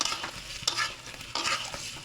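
Ridge gourd seasoned with turmeric and salt is stirred in a hot pan: a continuous scraping and clattering of the spatula over a steady frying sizzle, with brief louder strokes, close and alone.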